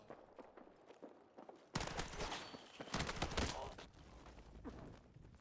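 Gunfire from a gun in Battlefield 6, a sudden loud volley of rapid shots over ongoing battle noise and movement, continuing in bursts before easing.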